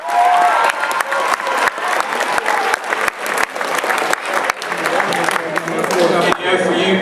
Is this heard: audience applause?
yes